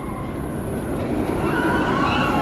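A steady rumbling roar of the Velocicoaster roller coaster train rolling past nearby, with a faint rising screech of wheels on track.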